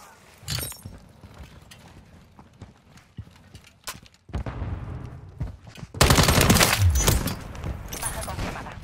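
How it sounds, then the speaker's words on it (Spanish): Gunfire in the Modern Warfare III shooter game: a few isolated shots and clatter, then a close, loud stretch of rapid automatic fire near the end, with brief voices in the mix. "¡Están disparando!"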